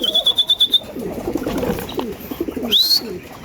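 Pigeons and chicks in a loft, a rapid series of thin high chirps at the start and low throaty cooing throughout, with a quick wing flutter near the end, all close and clear.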